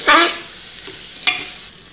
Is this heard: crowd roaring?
no